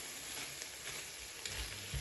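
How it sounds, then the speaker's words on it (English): Chicken frying in a pan on an induction stove, a steady soft sizzle with faint crackles throughout, close and alone without talk. "So here I'm just frying this until it's cooked."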